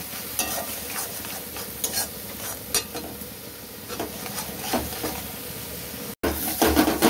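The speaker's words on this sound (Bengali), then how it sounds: "লঙ্কার গুঁড়ো 1 চামচ মতন দিয়ে দিলাম। দিয়ে এটাকে ভালো করে কষিয়ে নেবো" Chilli powder and spices stir-fried in a pan for a Bengali dhokar dalna, a continuous sizzle punctuated by repeated scraping strokes of a spatula, with one abrupt momentary cut near the end.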